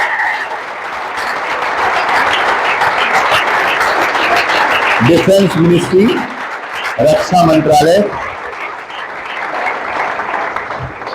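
Audience applause greets a candidate selected as senior assistant in the defence ministry at a coaching-institute results ceremony, steady clapping from a crowd running throughout, with someone speaking over it.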